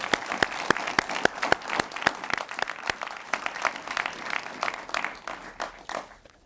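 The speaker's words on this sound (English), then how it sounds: "Let's have one more round of applause for our panel." A public Q&A audience applauds a shale gas fracking panel, a crowd clapping with loud, distinct individual claps standing out over the general ovation, sustained then fading near the end.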